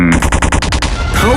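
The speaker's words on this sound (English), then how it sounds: "what an explosion" A chain of TNT explosions in the Minecraft video game, set off by a lever to collapse a doomsday bunker, going off as a rapid rattling series of loud blasts that merge into a rumbling roar.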